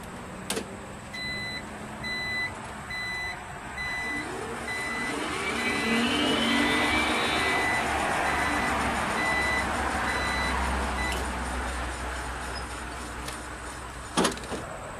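A 1977 Citicar electric car gives a steady series of evenly spaced reversing beeps over a low hum. A couple of sharp clunks sound near the start and end.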